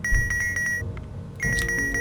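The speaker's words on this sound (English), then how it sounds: "The needy module was beeping and I didn't know what that meant." Needy module in Keep Talking and Nobody Explodes, a bomb-defusal video game, giving off a steady high electronic beep that pulses in a quick regular rhythm, pauses briefly, then resumes over a low background rumble.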